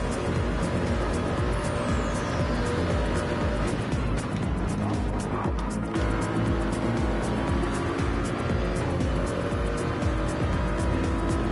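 Gr.3 race cars running side by side in Gran Turismo 7 on the Tokyo Expressway, engines roaring continuously at high revs with tire squeal and passing whooshes, loud and close throughout.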